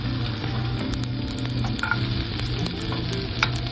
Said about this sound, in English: First, I'm gonna cook the carrots.